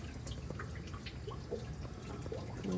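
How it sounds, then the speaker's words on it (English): Water dripping off a Detroit Diesel 8V92TA engine that overheated and was rebuilt, heard as a few small, close drips and light splashes over a steady low background hum. "I see a little water drip over here."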